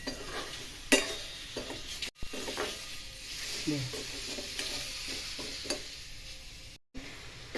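Green grapes sautéed slowly over low heat in a pan give a soft, steady sizzle, with spatula scrapes and light taps recurring throughout, fairly quiet and close.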